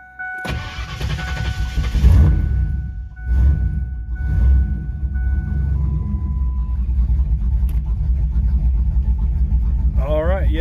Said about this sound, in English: it is idling at a lower RPM now, which is a good sign that that vacuum leak is gone.